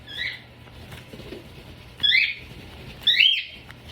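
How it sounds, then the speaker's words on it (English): Pet cockatiels calling indoors, three loud, shrill chirped calls in separate bursts, the last two close together, with a quiet pause between the first and the others and no voices. "They're cockatiels"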